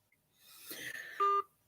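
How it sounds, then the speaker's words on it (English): A computer gives a short, clear electronic beep, close and faint, with soft rustling just before it. "my computers is beeping over here saying there's some activity going on"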